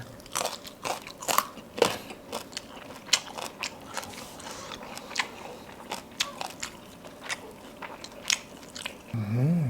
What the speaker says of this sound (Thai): ต้มก่อนแล้วไปย่าง โอ้ยแซ่บ กินกับทีมงาน